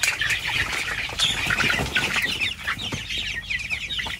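A flock of F1 layer hens and roosters clucks and squawks continuously at close range, with busy overlapping calls and occasional wing flapping throughout.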